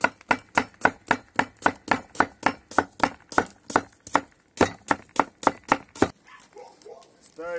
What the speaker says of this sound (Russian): Сразу лучок нарежу полукольцами.